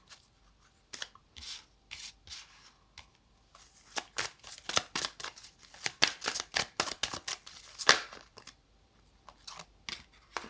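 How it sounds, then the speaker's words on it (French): Tarot cards being shuffled by hand, a rapid run of crisp riffling and slapping strokes that starts sparse and grows denser and louder, close up with no talking. "battre les cartes"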